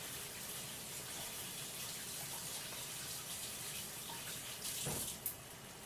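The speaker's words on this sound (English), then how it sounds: "I'm going to rinse my hands real quick." A kitchen tap runs steadily while hands are rinsed, giving a soft, even stream of water that stays quiet and close throughout, with a brief splash near the end.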